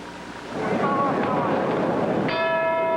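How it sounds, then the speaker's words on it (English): A single boxing ring bell clangs loudly with a ringing, sustained tone signalling the start of a round, rising out of crowd noise near the end. "There's the bell for round number 6."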